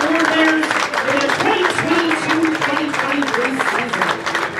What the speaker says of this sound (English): let's have a nice round of applause for all of our individual award winners